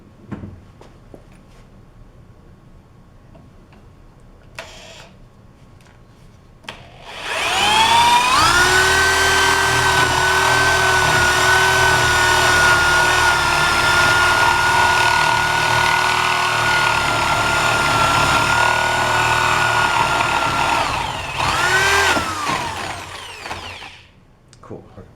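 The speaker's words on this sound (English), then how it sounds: "a 1-inch hole with the spade bit at the mark" A 1-inch spade bit bores a hole at a marked spot in a wooden trebuchet part, the drill whining loud and steady for about fifteen seconds after a short burst, then spinning down.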